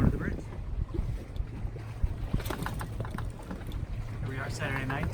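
Sailboat slipping through the water under the Golden Gate Bridge on a flooding tide in very light wind, with a steady wash of water and wind noise against the hull and a voice speaking over it.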